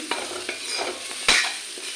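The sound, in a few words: spices frying and being stirred in pan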